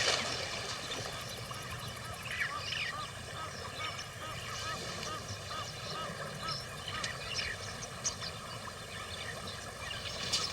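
Knob-billed geese at a watering spot shared with elephants and giraffes honk repeatedly in scattered, overlapping calls over a constant outdoor background, moderately near and fairly loud throughout.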